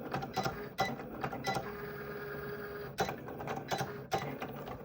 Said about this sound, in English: And now the machine begins to cut.